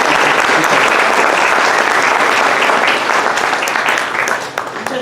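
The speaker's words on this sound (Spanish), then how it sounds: "Démosle un aplauso," Loud, sustained applause from a large audience at a clinical case session welcoming a female doctor, a dense wash of clapping that holds steady for several seconds before easing slightly at the end.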